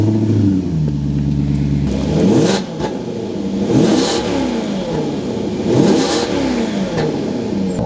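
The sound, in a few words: Maserati GranTurismo S Ferrari V8 engine starting and revving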